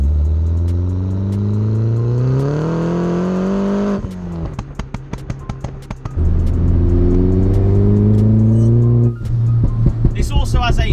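A 300bhp R56 Mini John Cooper Works engine revs hard and climbs in pitch, then lifting off sets off a burst of sharp crackling pops and bangs before the engine pulls again, loud and close.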